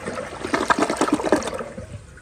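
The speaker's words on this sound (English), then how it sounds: "but here's more of a half flush" Half flush of a black Kohler Cimarron Revolution 360 toilet: a short, close whoosh of rushing water with gurgling swirl, peaking quickly then tapering off over about two seconds.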